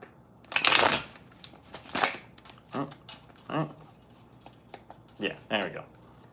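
A deck of tarot cards is shuffled in several quick riffling bursts close by, separated by short pauses.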